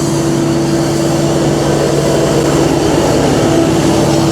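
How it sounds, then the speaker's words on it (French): A tractor passing on a road produces a steady low droning engine hum with a constant tonal whine, loud and continuous under heavy wind rush, with no talking. "Ah, il y a un tracteur!"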